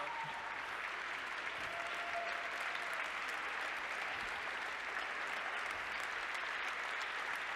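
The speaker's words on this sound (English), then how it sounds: "keep that applause going" Steady applause from a crowd at a mentoring celebration event, a dense, continuous wash of clapping held at an even level without breaks.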